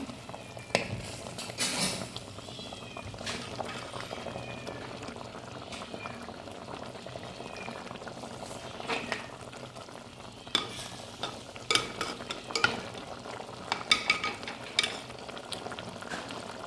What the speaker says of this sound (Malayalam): കറി തിളക്കുന്നുണ്ട്